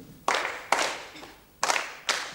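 Children clapping along in a music lesson, four separate sharp claps in a slow, slightly uneven rhythm, close and fairly loud.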